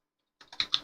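Several quick keystrokes on a computer keyboard, close and crisp, clattering in an uneven burst after a moment of silence.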